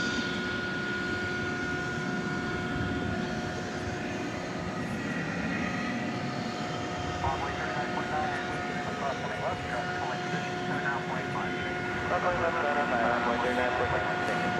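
Steady high aircraft engine whine from a parked MD-11 at DFW Airport at night, a constant tonal drone over distant rumble, with a person talking over it.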